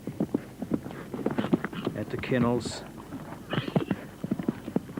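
An eventing horse clatters over a jump at a 1985 pony club championship in Christchurch, a rapid run of hoof thuds building to the takeoff, with a commentator talking throughout.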